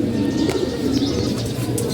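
Pigeons coo continuously inside a loft, several overlapping low throaty calls filling the space loudly and closely, with faint chirps mixed in.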